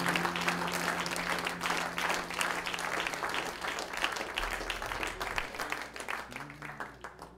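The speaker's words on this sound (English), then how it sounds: "Can you give the Lord a hand clap of praise this morning?" Church congregation clapping hands in praise during a Sunday morning service, a lively burst of many hands beating together in a roughly rhythmic patter, fairly close and tapering off toward the end.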